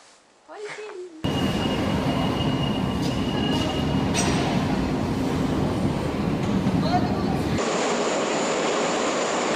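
A Tbilisi metro train rumbles steadily at the end station of the line, a loud sustained roar with whining tones; it begins abruptly after a brief quieter moment and then drops away to a high hum.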